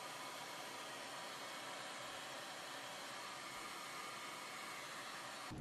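A heat tool blows steadily to warm a wig parting product, giving a constant loud broadband whoosh like a hair dryer that runs without a break and with no voices.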